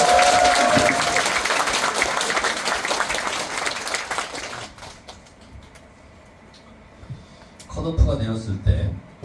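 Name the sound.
crowd applause at political party meeting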